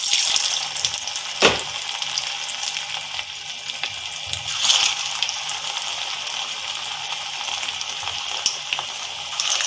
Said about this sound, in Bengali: এবারে আমি আলু ডিমের মাখাটা এই তেলের মধ্যে ছাড়বো একটা একটা করে।